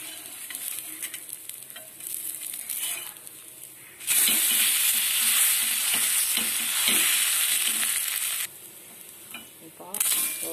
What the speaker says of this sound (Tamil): இப்போ நல்லா ஃப்ரை ஆகுறதுக்கு நம்ம கொஞ்சம் ஆயில் சேர்த்துக்கலாம்